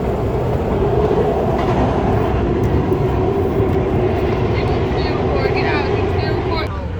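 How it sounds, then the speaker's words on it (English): A 4-car MARTA Gold Line rapid transit train rumbles past at close range through West End station, a loud steady roar with faint rail clatter and squeals near the end. "It's a 4-car Gold Line train."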